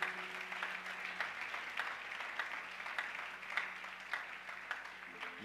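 A church congregation applauds and cheers during a worship service, a steady wash of clapping hands lasting several seconds at moderate level with a few voices calling out.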